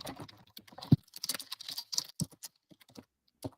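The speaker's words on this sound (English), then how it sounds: "I hit the key kind of hard when I type" A computer keyboard is struck hard, producing a burst of uneven, sharp key clacks with a few heavier thumps, then sparse isolated taps trailing off, close and alone.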